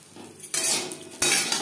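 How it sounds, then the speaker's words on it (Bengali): Chopped boal fish roe fries in oil in a kadai, with bright sizzling hiss that surges in two bursts as the pieces are stirred, and with light utensil scrapes nearby. "বেশ ভালো করে ভেজে নেব"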